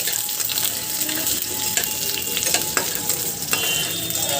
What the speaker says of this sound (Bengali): প্রথমে আমি পেঁয়াজটা ভেজে নেব।